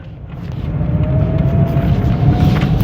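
A Toyota Corolla Indus with a carburetor engine gives off a steady, loud low drone that builds slightly over a few seconds, with a faint rising tonal whine riding above it and no talk.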